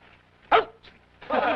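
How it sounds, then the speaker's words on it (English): A dog gives a single sharp bark, then a softer yip and a longer whining, vocal bark, all close and clear over a quiet background. "That certainly is an intelligent dog you have, Mr. Rogers."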